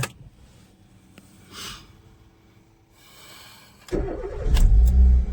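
A car engine starts up and the vehicle begins to pull away, a sudden loud low rumble after a few seconds of quiet background noises, building steadily on a muddy rural road during heavy rain.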